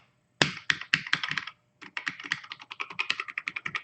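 Keys clattering on an Atari 600XL computer keyboard, a burst of quick clicks, a short pause, then a longer run of rapid close-up taps.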